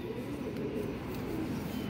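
A Chapra pigeon with a white crop coos softly in low, throaty pulses, faint and continuous at close range with no talking.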